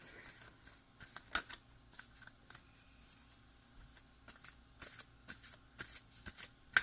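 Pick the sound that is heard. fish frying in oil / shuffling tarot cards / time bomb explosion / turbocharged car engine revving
shuffling tarot cards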